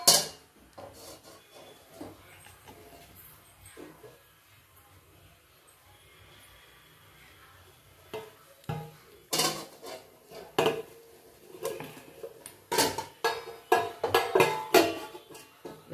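A metal plate is set inside a cooking pot holding a glass of water, making scattered scrapes at first and then a run of loud, sharp metallic clanks and rattles toward the end.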